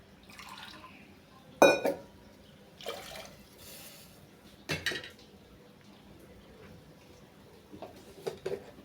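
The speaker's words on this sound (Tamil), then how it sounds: "அரைச்சி வச்ச புதினா தண்ணியை நம்ம இதில் ஊற்றிடணும்." Ground mint water is poured into a pot of rice for mint pulao, with a soft liquid trickle broken by a few sharp metallic clanks of the pot and utensils, fairly close and quiet between knocks.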